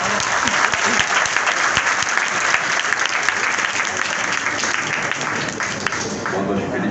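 An audience at a lecture hall event gives dense, loud applause that stays steady and unbroken for the whole seven seconds.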